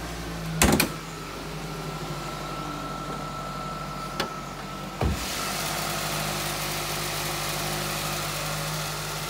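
2015 Nissan Rogue 2.5-liter four-cylinder engine idling smoothly and quietly under an open hood, a low steady hum with a few sharp clunks near the start, then the idle continuing evenly.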